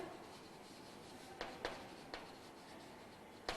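Marker or chalk strokes scratch on a classroom board, faint and close, with a few distinct taps and scrapes over a steady background hiss.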